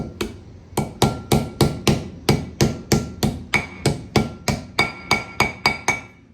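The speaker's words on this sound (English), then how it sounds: "Goes in the back side, light taps of the hammer." Steady series of light, sharp metallic hammer taps seating a wheel seal in a drum brake assembly, about twenty in quick even rhythm, close and clear with no talking.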